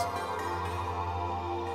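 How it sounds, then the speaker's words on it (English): A plucked synthesizer melody with an ethnic, string-like tone plays steadily over a sustained low drone, with no voices. "I really like these ethnic pluck sounds like this."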